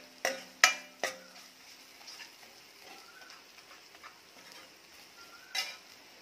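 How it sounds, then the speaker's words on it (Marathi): Masala chutney being sautéed in oil for a drumstick curry, with a few sharp utensil clicks and scrapes early on, then a soft, quiet sizzle and occasional stirring taps. "चटणी म्हणजेच मसाला छान तेलावर परतून घ्यायचा आहे."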